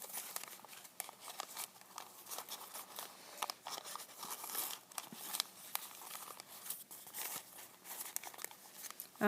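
Sheets of paper crinkle and rustle steadily while being handled and folded into glue-free paper pyramids, a soft, close, continuous crackling with small taps and no talking.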